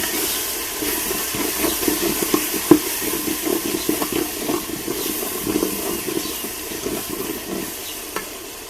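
Steady sizzling and crackling of spices and turmeric frying in a pan, with scattered soft stirring clinks and small pops throughout, no speech.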